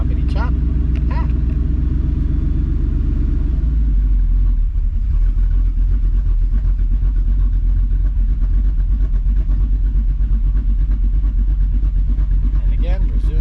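A Ford F150 pickup's engine settles from a raised speed back to a smooth, steady idle, a low continuous rumble that drops in pitch early on and holds close and constant, with a voice talking over it.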